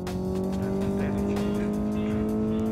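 Engine of a Chinese plastic-bodied car in a racing video game, held high in the rev range as a steady, buzzing drone with strong sustained tones that climb slightly.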